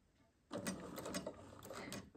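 A sewing machine shirring fabric with the fabric edge held along the presser foot, running as a steady mechanical whir with faint rhythmic clicking, close and alone with no talk.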